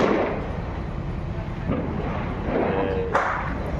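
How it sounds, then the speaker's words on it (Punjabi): Firecrackers and bombs set off outdoors during a Gurpurab celebration, with a muffled blast and some sharper cracks at a distance rising above a steady crowd and street rumble. "ਬੰਬ ਚੱਲ ਰਹੇ ਨੇ"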